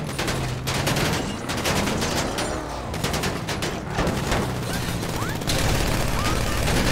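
Gunfire in GTA 5 roleplay play, bursts of rapid shots crackling in clusters under steady game noise and occasional voices.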